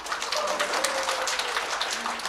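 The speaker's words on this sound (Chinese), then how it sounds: "我俾鼓掌嘅鼓掌啦" Clapping from a Cantonese-speaking audience, a dense and steady patter across the whole short stretch with a faint voice under it.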